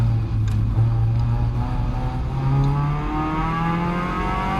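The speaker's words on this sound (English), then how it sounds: "blips the throttle with the heel to change down a gear while braking" A Caterham race car engine on track drones loudly and close, its pitch rising and falling as the throttle is blipped during heel-and-toe downshifts under braking, with a steady engine tone between the blips.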